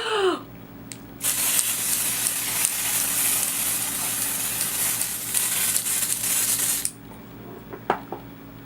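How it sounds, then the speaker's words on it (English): Dior AirFlash foundation sprays from a can onto a face in one continuous close, loud hiss lasting about six seconds, with quiet handling noise before and after. "I just want to see how the coverage is if we just sprayed it on our face"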